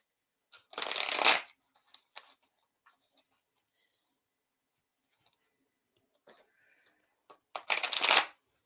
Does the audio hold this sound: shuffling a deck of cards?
yes